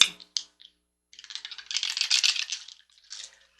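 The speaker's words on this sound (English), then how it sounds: "let's get ready to roll that dice" Dice rattle and tumble across a surface with a few sharp clicks before a sustained clattering roll, close and fairly loud, with no talking.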